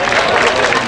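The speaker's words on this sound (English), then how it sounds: "So let's hear a round of applause" An outdoor crowd applauds at the opening ceremony of a cherry blossom festival in Japantown, a dense, steady wash of clapping heard for a brief moment, fairly loud and close.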